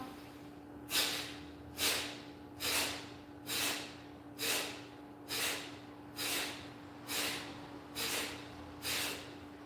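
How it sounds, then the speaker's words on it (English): Ten forceful nasal exhales of Kapalabhati breathing come at an even rhythm, roughly one per second. Each is a short, sharp, close puff of air over a quiet background. "As we come into that fourth and final round, nice big inhale, big exhale, another big inhale"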